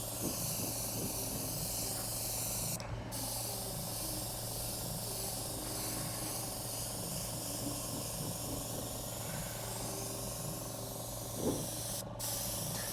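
Steady broadband hiss of spray paint from an aerosol can running continuously onto a banger racing car, with a constant low hum underneath and two brief breaks in the high hiss.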